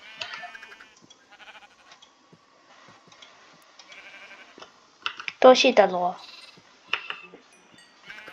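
Sheep bleat in a Minecraft Bedrock world, a short burst of several loud, close bleats in the middle, with faint game ticks and clicks around it and someone talking briefly.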